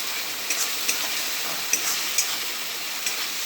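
Spice masala for a rohu fish curry sautéing and sizzling in a pan, a steady close hiss with occasional faint clicks of stirring.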